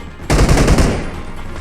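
A rapid, dense crackle of firecrackers bursts out during a Chinese New Year event in PUBG Mobile, loud and close, like machine-gun fire, then fades into a lingering tail.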